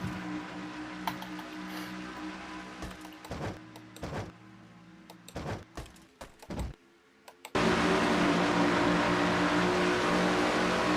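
Stock cars in a simulated Castrol GTX Cup Series race at Michigan's Champion Spark Plug 400 take the green flag: scattered thumps and short bursts give way to a loud, steady engine roar that fills the rest.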